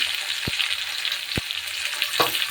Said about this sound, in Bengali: টমেটো কুচি দিয়ে দেবো, কাঁচা লঙ্কা দিয়ে দেবো, একটু নেড়ে চেড়ে লবণ দেবো